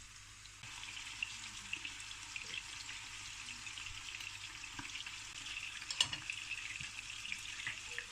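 Onions fry in a pan with a steady, quiet sizzle and crackle, with a few small clinks of utensils partway through.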